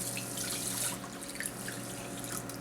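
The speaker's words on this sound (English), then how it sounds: "And then I'm gonna add 2 cups of water to the rice." Water poured from a measuring cup into rice in a skillet, a steady close splashing rush that eases after the first second and trickles on, with no talking.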